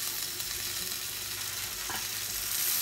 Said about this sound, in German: lege die so einzeln da rein und lasse das Ganze schön lustig weiter brutzeln